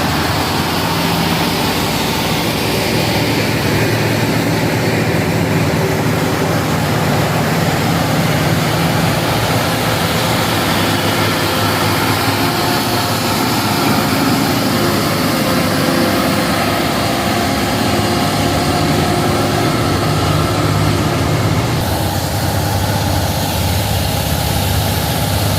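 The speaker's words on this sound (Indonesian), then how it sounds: "Terus ramai sekali truk-truk berat ini teman-teman." Heavy trucks, including an intercooler tanker, labour up the steep Bukit Kodok hill road, their engines a steady, loud low drone with no pauses, blended with constant rumbling road noise throughout.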